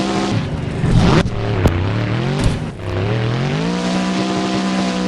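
A monster truck engine at a freestyle tournament in Jacksonville roars and revs hard during a power wheelie attempt, loud and close, with the pitch rising and dipping through repeated throttle bursts before settling into a sustained high drone.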